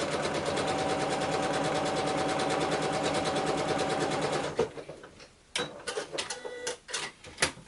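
A sewing machine stitches quilt fabric scraps in a fast, steady mechanical rattle for a few seconds close by, then stops, leaving scattered handling clicks and rustles of cloth.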